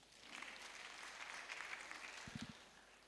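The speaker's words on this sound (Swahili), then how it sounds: "Tupigie praise and worship makofi." Faint, steady applause from a church congregation during a Boys and Girls Brigade service, a soft continuous patter of clapping with a few brief low thumps near the end.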